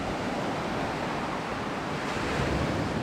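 Sea waves wash onto a beach on Koh Samet in the early morning, a steady broadband rush of surf with some wind, close and continuous.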